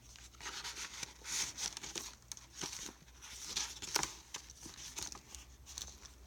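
A small paper tag on an eco-dyed paper collage is handled up close, making soft, irregular crinkles and rustles in bursts with quiet gaps between them.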